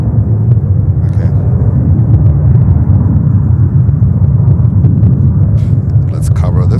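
A JetBlue Airbus A220-300 airliner at JFK airport in heavy winter winds: a loud, continuous low jet rumble under steady talk, with wind buffeting on the microphone.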